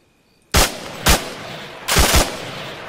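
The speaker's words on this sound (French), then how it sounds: "Bon, ça me tire dessus, ça me tire dessus." Gunshots in the video game ARMA 3 ring out nearby, one sharp crack, another a half-second later, then a quick pair of shots, each loud and echoing over a quiet background.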